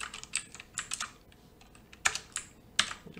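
Computer keyboard typing while coding a simple calculator in Java: scattered clusters of crisp clicks, a busy run early, a pause, then two sharper isolated keystrokes, close and alone without talk.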